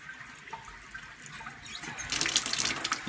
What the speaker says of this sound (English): So please don't forget to always leave the water running here.